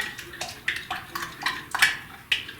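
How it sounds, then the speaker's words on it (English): Spoon or whisk mixing pancake batter liquids with melted butter in a bowl, a run of quick scraping clinks and swishes repeating roughly twice a second, close and moderately loud. "And I'm going to mix all of this together. You can use a spoon or you can use your whisk."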